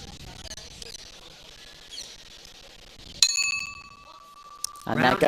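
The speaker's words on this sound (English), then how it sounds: "And there goes the opening bell." A single ringside bell strikes with a bright, ringing metallic tone that sustains for over a second, opening a bout at the men's world boxing championships, with arena murmur before it and a second strike and crowd noise following.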